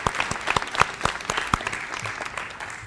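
Applause at a senior awards assembly for an award-winning student, individual claps standing out sharply in an uneven, moderately loud patter that tapers off over the last second.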